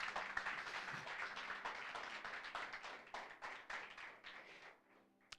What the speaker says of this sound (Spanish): Eso merece un aplauso, aleluya